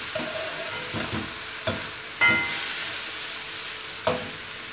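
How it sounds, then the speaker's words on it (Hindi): A spoon stirs and mixes a brinjal dish in a pan. Scraping strokes come in an irregular rhythm over a steady frying sizzle, close and moderately loud, with no talk. "इसको अच्छे से मिक्स कर दें आप।"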